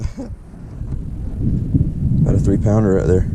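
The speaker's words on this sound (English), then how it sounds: "I know you can hear the thunder in the background." Low rumbling thunder rolls in the background during a stormy outing kayak fishing, steady and muffled beneath someone speaking close by, with wind buffeting the microphone.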